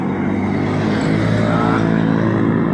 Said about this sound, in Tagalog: nga damo sa lakyan nga nagaagi. May mga motor, may mga pick up, motor na single.